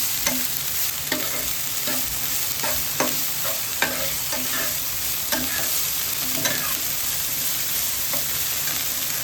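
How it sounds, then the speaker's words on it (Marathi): French beans and large-cut spring onion stir-fry on high flame for vegetable Hakka noodles, giving a steady loud sizzle with rhythmic utensil clacks against the pan roughly every half second, and no voices. "आणि पातीचा कांदा जो आपण मोठा कापला होता स्टर करून घ्यायचा क्रिस्पी क्रिस्पी नाही येईपर्यंत"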